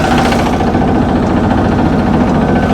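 A tractor engine runs close by with a loud, steady low throb and rapid mechanical knocking that never lets up.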